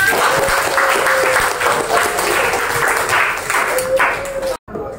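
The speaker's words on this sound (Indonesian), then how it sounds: "Boleh kasih tepuk tangan, Nak?" A class of children applauds in a classroom, steady broadband clapping filling nearly five seconds before cutting off abruptly, with a faint tonal ping running beneath.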